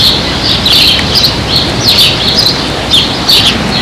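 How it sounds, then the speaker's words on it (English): Repeated cardinal chirps and squawks near their nest in short bursts over steady outdoor background noise, fairly close and continuous throughout. "The minute you go near that nest, they start squawking."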